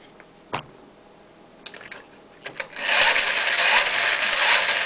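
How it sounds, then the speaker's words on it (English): Homemade mini AC alternator turned by hand, starting with a few scattered clicks and taps, then breaking into a steady, loud whirring rush as it spins at speed near the microphone. "I'm just going to spin the alternator"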